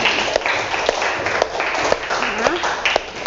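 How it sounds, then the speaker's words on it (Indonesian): Classroom applause for a student group after a presentation, a brief round of clapping from a class with distinct individual claps over a busy wash of hands and faint voices. "Oke, tepuk tangan untuk"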